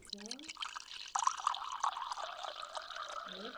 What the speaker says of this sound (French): Remplir avec l'eau.